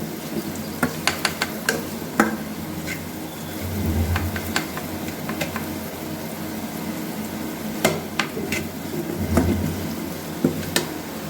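Atta dough being kneaded by hand in a plate makes soft rhythmic pressing and squishing, with a few light taps and clinks, close up and without talk.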